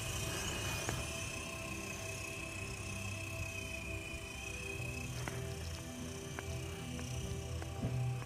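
A toy helicopter buzzes steadily with its rotor running, a continuous droning whine lasting throughout at moderate level, with occasional faint clicks and knocks but no talking.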